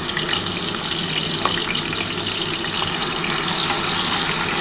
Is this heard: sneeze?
no